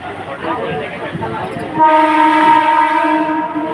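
Rumbling, rattling interior of a moving train with someone speaking briefly at first, then a loud sustained horn blaring over the noise.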